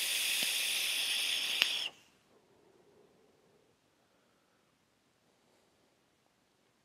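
A Vandy Vape Kylin Mini RTA e-cigarette with a large coil gives a loud, steady hiss of vapour for about two seconds. The hiss then cuts off abruptly into near silence.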